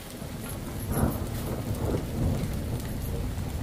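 Heavy rain pours steadily in a hillside village, a dense close hiss of drops hitting surfaces with faint rumbles beneath and no talking.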